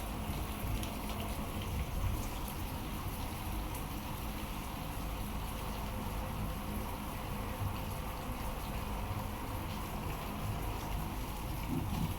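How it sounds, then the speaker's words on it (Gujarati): Steady rain falling outdoors, a dense continuous patter on surfaces with no pauses, fairly loud and close, with no voices. "તો હું તમને બતાવું બાર વરસાદ ચાલુ છે"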